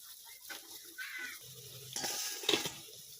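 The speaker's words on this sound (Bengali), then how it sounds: "এইভাবে একে একে আমি সব ডাল বাটার বড়াটা ভেজে নেব।" Lentil paste fritters sizzle in hot white oil in a kadai, a soft steady crackle that swells briefly near the end. There are no voices.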